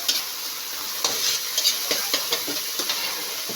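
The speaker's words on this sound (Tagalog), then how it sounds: "Igigisa ko muna tong alamang" Alamang shrimp paste sautés for Bicol Express, crackling under a steady high hiss while a spatula taps and scrapes the pan in short irregular strokes; close, with no speech.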